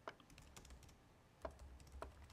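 Typing on a small computer keyboard while setting up decorative fall towel designs with fonts in Cricut software; a few sharp, irregular key clicks at close range, spaced apart and quiet, with no talking.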